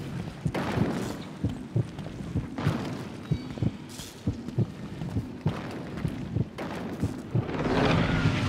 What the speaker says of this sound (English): Whose heartbeat is that?